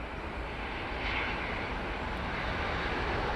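An Airways 350 airliner on approach to Heathrow runway 27R, heard as a steady broadband engine roar that swells slightly after the first second and holds loud and close throughout, with no talking.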